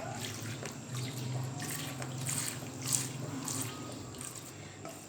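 Garlic juice, ginger juice, lemon juice and vinegar poured into a bowl in a kitchen, a steady liquid trickle and splash running under faint room noise without pause.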